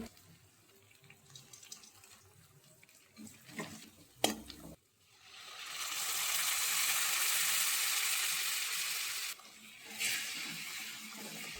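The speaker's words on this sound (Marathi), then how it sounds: "गरम तेलात मोहरी तडतडल्यावर" Hot oil bursts into a loud, steady sizzle as mustard seeds crackle in a tempering with curry leaves and asafoetida, after a few quiet clinks, crackling for several seconds, then dipping briefly before sizzling on.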